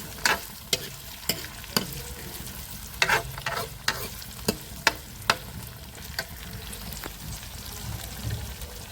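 Potatoes frying in oil and being stirred, with a continuous sizzle and sharp spatula clacks against the pan in an irregular rhythm, some of them loud.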